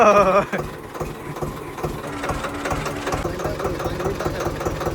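A tractor engine, started after a month unused, cranks on the self-starter and catches, then settles into a steady, knocking idle that chugs on close by.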